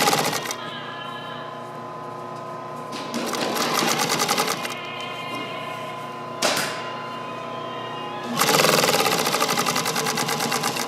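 Sewing machine with a single wide, one-tunnel welting foot sews cord into welting, running in several close, steady whirring bursts separated by short pauses, loudest at the end, with no speech.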